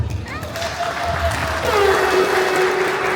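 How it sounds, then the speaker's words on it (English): Audience at a Ugandan cultural and tourism festival in Munich gives sustained applause with some crowd noise, fairly loud and steady throughout, with talk running underneath. "Give yourselves a big hand clap."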